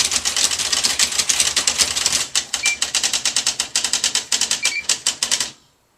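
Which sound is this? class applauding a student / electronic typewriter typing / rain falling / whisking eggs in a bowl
electronic typewriter typing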